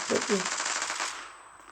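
Rapid automatic gunfire from a gun in the online shooter Zula rattles in a fast burst that trails off within about a second, close and fairly loud, with a brief voice sound at the start.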